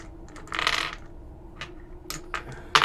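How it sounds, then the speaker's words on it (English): A die is rolled on a hard surface, making a quick series of clicks and rattling taps as it tumbles and settles, close and moderately loud with no voices. "I'll roll a dice."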